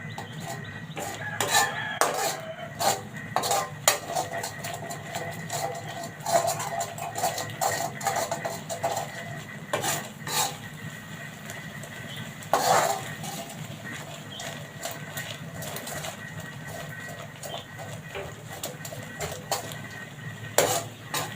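Panang curry paste for pork panang is stirred as it simmers in a pan, giving irregular clinks and scrapes of a utensil against the pan over a low, steady background with no talking.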